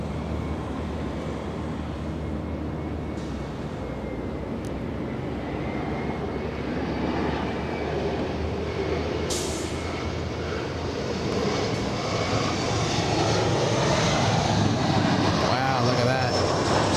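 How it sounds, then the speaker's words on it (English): An Embraer E175 and a Boeing 787 Dreamliner pass close in sequence on approach near Los Angeles International Airport, a loud, steady engine roar that builds gradually toward the end with no talk. "E175 flying at 130 knots. The Dreamliner close behind at 150 knots."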